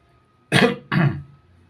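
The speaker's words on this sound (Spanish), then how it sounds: "perdón por la tos" Two short, harsh coughs from a man in a quiet room, close and loud, the second a little longer and trailing off.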